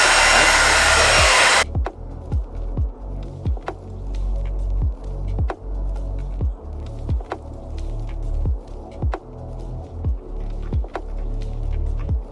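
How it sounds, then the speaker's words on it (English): A hair dryer on direct high heat gives a loud, rushing blast for under two seconds, then cuts off. A low, rhythmic throbbing pulse follows. "we're ready to blow dry. Alright, so we're going to start off by applying direct high heat."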